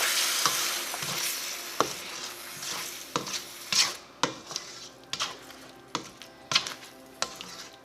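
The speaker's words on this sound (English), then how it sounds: "now time to add tomato sauce. 1 can of tomato sauce. Give it a good mix." Tomato sauce is mixed into chicken tikka masala with a spoon, giving repeated scraping and clanking strokes against the pot. A sizzle runs under them early on, then the strokes come alone at a steady rhythm, close and clear.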